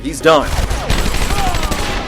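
Guards firing guns in the video game Batman Arkham Asylum, a loud close burst of shots followed by ringing game effects, with a short line of speech over it.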